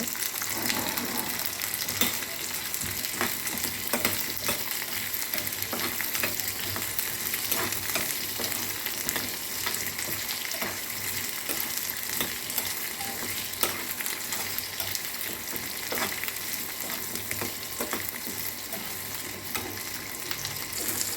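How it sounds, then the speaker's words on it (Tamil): Garlic, ginger and green chilies sauté together in a pan, giving a long, steady sizzle with occasional stirring scrapes, close and even throughout with no one speaking. "பூண்டு இஞ்சி பச்சை மிளகா எல்லாம் ஒன்றா போட்டு வணக்கிடுங்க"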